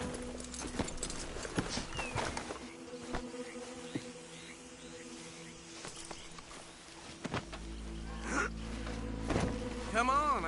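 Horse hooves clip-clop steadily on the ground amid buzzing insects and outdoor ambience in the video game Red Dead Redemption, with voices talking over the top.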